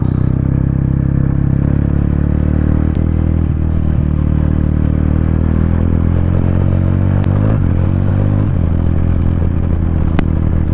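A motorcycle climbs the Devarayana Durga hill road, its engine droning loud and close from a rider's position, with pitch rising and falling through gear changes, plus wind rush and occasional clicks, no voices.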